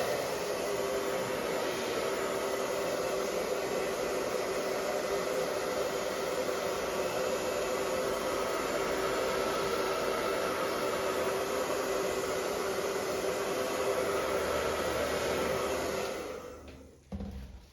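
A hairdryer blows steadily at close range to dry a fresh painting, a loud constant whooshing roar that holds unchanged for about sixteen seconds before being switched off.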